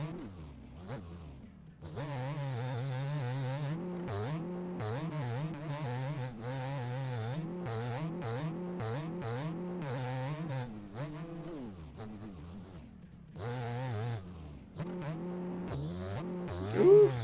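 A 500 two-stroke motocross bike engine in the MX Bikes racing game, buzzing and revving loud and continuous with rapid throttle rises and falls and brief drops in pitch as the rider shifts and brakes through a rutted track.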